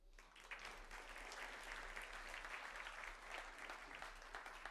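At a medical conference, an audience applauds to welcome a speaker to the stage. The clapping is steady and dense, sustained for several seconds at moderate distance, with no speech over it.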